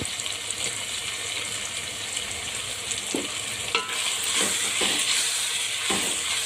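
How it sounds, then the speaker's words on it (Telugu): Ginger garlic paste sizzles in a pan while mutton biryani is being cooked, giving a steady, close frying hiss. A few light stirring scrapes and clinks break through the sizzle, and no one talks. "ఇప్పుడేమో అల్లం వెల్లుల్లి పేస్ట్ వేస్తున్నానండి రెండు స్పూన్లు వేస్తున్నాను"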